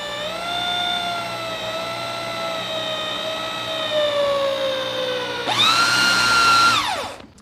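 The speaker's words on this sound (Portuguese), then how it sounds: "encostar a broca aqui e furar" A power drill boring holes in wood for round dowel joinery whines at a high steady pitch that slowly sags under load, then stops and spins up again into a brighter, louder whir before cutting off.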